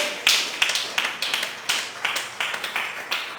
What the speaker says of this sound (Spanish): Dele un aplauso al Dios de Pedro, al Dios de Pablo